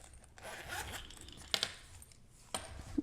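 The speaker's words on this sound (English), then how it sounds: "And then the case zips very easily." A zipper runs around a fountain pen case, several quiet, close scratchy zipping strokes with brief sharper clicks as the pull moves and stops.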